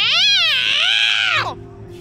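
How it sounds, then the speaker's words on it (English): A single long, loud meow rising then falling in pitch, drawn out for over a second before cutting off, close to the microphone. "Meow. Sounds like my cat."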